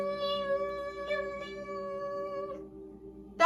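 A voice imitates a huge swarm of mosquitoes and black flies with a sustained, steady buzzing hum held for a few seconds, close and alone.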